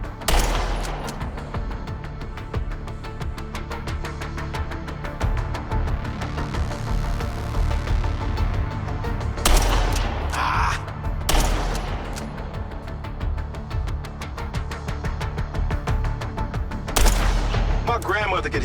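Repeated gunfire in the MindsEye video game, with rapid shots crackling steadily throughout and a few louder, sharper blasts standing out, mixed with game noise and voices.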